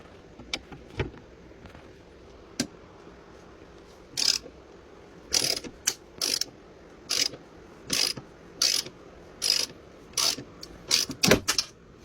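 A ratchet with a socket on a 1/4-to-1/2 inch drive adapter loosens hood strut bolts on a 2000 Mustang GT, heard as close, short bursts of rapid clicking repeated in quick succession over a quiet background.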